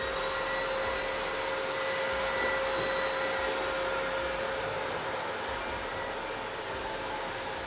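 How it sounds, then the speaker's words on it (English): Vacuum cleaner running in a studio, a constant whining roar with a steady high tone, fairly distant and uninterrupted throughout. "Yeah, someone's vacuuming."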